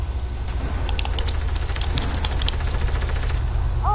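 Rapid gunfire in an online shooter match, a fast even train of shots running steadily through the whole stretch at moderate loudness over a low game rumble, with no talking.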